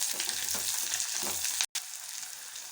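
Grated coconut and small shallots fry in a pan for drumstick-leaf thuvayal, giving a steady close sizzle with soft stirring strokes and a brief dropout near the end, with no voices.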